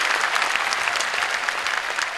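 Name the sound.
crowd applause at convention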